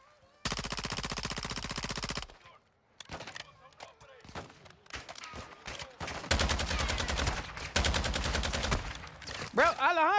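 Bursts of rapid automatic gunfire rattle loudly, a long sustained volley followed by scattered single shots and then more dense bursts, with some voices in between.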